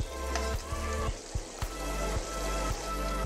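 Coconut paste and spices frying in a pan for mutton curry, giving a continuous close sizzle with scattered pops and crackles.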